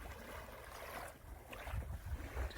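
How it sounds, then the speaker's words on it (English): Sea waves wash onto a secluded island beach at Selingaan Island, Borneo, a steady broad rush with wind buffeting the microphone throughout and slightly stronger surges near the end. "Just listen to them waves."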